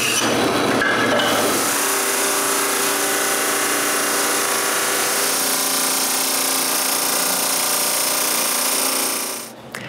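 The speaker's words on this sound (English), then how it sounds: "I need to remove some wood from this chunk of wood. Okay, any excuse is good to show off my new bandsaw." Bandsaw slicing through a chunk of walnut, a loud steady whine and buzzing rasp of the blade in the wood, close up, sustained for several seconds before cutting off at the end.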